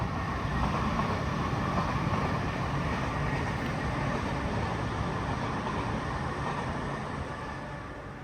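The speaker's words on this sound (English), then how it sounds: "I think there's a train passing now." A train passes on a nearby railway track behind a quiet garden, giving a steady broadband rumble and rattle that slowly fades away, with no one talking.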